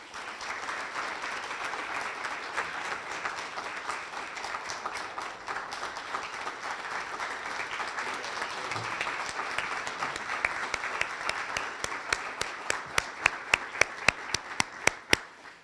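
Sustained audience applause at an awards ceremony honoring the Texas Elementary Teacher of the Year, a dense wash of clapping heard from a distance that thins toward the end into a few separate loud claps.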